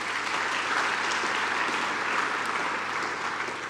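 Steady applause from an audience at a BMW X3 launch event at the Rosslyn plant, dense and even clapping that holds at a constant level across the whole stretch with no talk over it.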